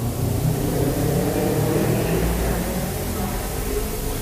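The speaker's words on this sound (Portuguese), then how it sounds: "Espera a moto passar." A motorcycle engine drones loudly nearby, swelling slightly as it passes with no one speaking.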